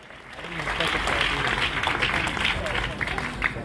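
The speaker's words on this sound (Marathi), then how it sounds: "अर्थात सुषमाताई अंधारे यांच्यासाठी एकदा जोरदार टाळ्या." A large audience bursts into loud, sustained applause for Sushma Andhare at a stage event with officials on the dais. The clapping is dense and even, mixed with crowd noise and voices.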